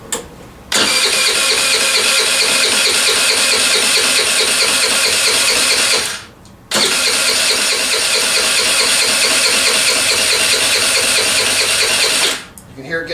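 A scooter's electric start button cranks the engine in two long, steady, rhythmic bursts of about five seconds each, separated by a short pause, loud and close.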